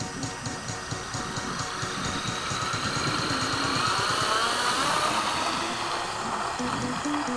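A rotor spin-up motor on a Durafly Auto G-2 RC autogyro whirs steadily outdoors in a crosswind, a continuous buzzing drone that holds level and slightly rises over several seconds.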